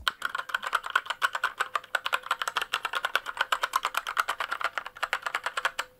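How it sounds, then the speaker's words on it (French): Rapid typing on a budget gaming mechanical keyboard with red switches, a continuous run of crisp, closely spaced key clacks heard up close with no talking. "on écoute tout de suite le bruit de ce clavier"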